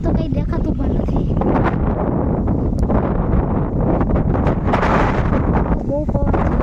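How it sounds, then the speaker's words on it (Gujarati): Strong wind sweeping through a village outdoors just before rain, roaring and buffeting the microphone in a constant loud, rough rush with rustling mixed in. "બહુ પવન."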